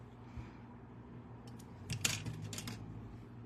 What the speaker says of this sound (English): So for this, I'm just gonna go ahead and use regular scissors